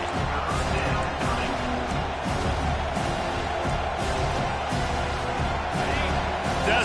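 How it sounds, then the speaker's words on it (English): Stadium crowd noise in the college football video game NCAA 25 swells as a broad, steady roar of fans behind the defense on third down. It stays fairly loud throughout with faint cheers rising within it. "Decibels rising as the crowd gets behind this defense on third down"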